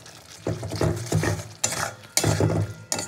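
Spice paste and green peas being stir-fried in a pan, bursts of scraping and stirring with a spatula in uneven strokes, each followed by a short sizzle, close and fairly loud with brief quiet gaps.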